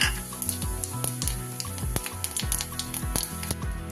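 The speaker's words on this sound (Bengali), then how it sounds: "এবার এর মধ্যে দিয়ে দেব একটু ফোড়ন, সামান্য একটু জিরে আর একটা তেজপাতা।" Cumin seeds and a bay leaf sizzle in hot oil with ghee, giving a steady, close crackling hiss with small popping bursts throughout.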